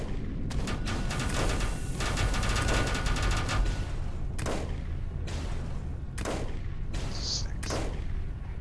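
Minigun street sweeper in Volcanoids firing in long rattling bursts, dense rapid shots broken by brief pauses and sharp impacts, loud and close.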